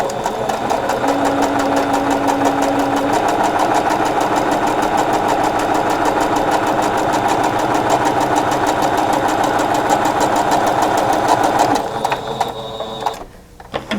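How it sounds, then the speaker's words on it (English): A sewing machine stitches quilt block fabric for a whirligig stash-buster block, running as a steady, close mechanical whir for about twelve seconds before stopping, followed by a few quieter handling sounds. "And just flip it around and sew the other side."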